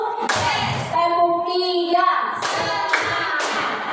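A group claps hands in unison during a classroom or school gathering, with sharp broadband bursts at roughly half-second intervals, set between stretches of sustained sung or chanted voices.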